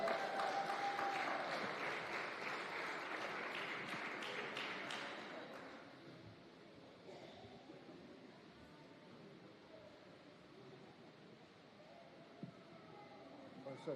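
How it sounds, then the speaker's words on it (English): An audience at a church-style conference event claps in a dense burst of applause that fades after about six seconds, leaving a quieter room murmur. "Give them another round of applause, guys."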